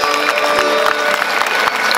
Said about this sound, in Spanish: Escuchen fuerte los aplausos.